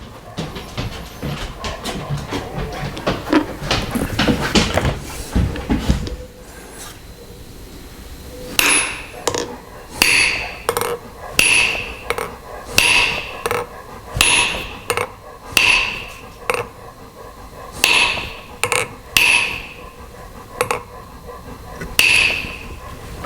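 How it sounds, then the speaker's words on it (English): A concave plate hammered into the cylinder head of a Massey Ferguson MF 35 tractor: a busy clatter of taps at first, then a steady series of about a dozen loud, ringing metal hammer blows at even intervals, close and without talk. "by hammering in the middle, the concave plate extends and it locks itself into place"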